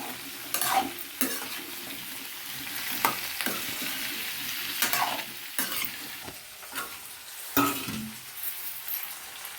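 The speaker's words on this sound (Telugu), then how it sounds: "ఇందులోనే వంకాయలు అయితే వేసేసుకుంటుంది నూనెలో బాగా మగ్గించుకోవాలి వంకాయలు" Brinjals frying in hot oil give a steady low sizzle, broken by repeated sharp scraping stirs and utensil knocks at irregular intervals, close and fairly quiet.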